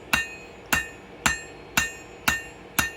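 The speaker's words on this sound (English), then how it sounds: "What I'm doing basically is pinching the steel between the hammer and the anvil, and just shoving the steel down where I want it to go." Hammer blows forging high carbon steel on an anvil, six sharp ringing metallic strikes at an even pace about every half second, close and clear with no talk.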